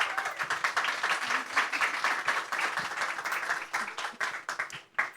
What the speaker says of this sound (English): Great, let's give them a big round of applause.